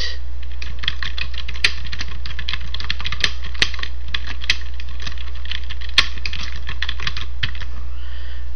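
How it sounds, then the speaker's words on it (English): Fingers type on a computer keyboard, a close, steady patter of light key clicks with a few sharper strikes scattered through, alone with no voices. "Type in the subject."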